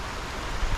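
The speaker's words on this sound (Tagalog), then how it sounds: "Ayan, lumakas sa ulan." A dense, steady hiss of heavy rain pours down without a break, with a low rumble near the end and no voices.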